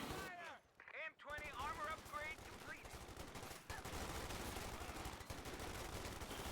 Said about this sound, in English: they're firing bazookas and stuff at me